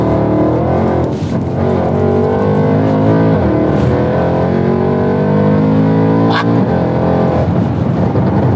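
A supercharged 750bhp Mercedes C63 engine revs hard and steadily while driving, a loud, continuous, close-up roar with rising and falling pitch sweeps and sharp bursts on throttle changes.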